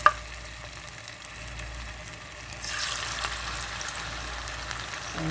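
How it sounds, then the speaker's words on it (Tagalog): Marinated chicken frying in hot oil for spicy Sichuan chicken, a steady low sizzle that swells louder and brighter about halfway through, with a sharp clink at the start. "fry the marinated chicken"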